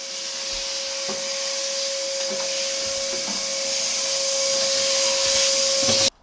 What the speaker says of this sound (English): The car is powering my vacuum.